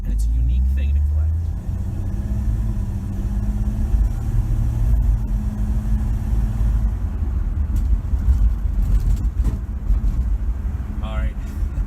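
A 1967 Plymouth Valiant with a slant six engine drives through town, its steady low engine rumble and road noise running continuously while someone talks over it.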